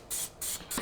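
Cooking oil sprayed from a can onto a pan for air-fried pork chops, two or three short close hissing bursts separated by brief pauses.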